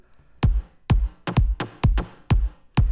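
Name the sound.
percussive transient bass layer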